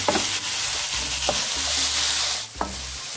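Diced bacon frying in a pan while a spoon stirs it, with a continuous sizzle broken by a few distinct scraping strokes.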